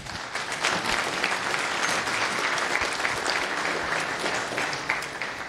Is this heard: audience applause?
yes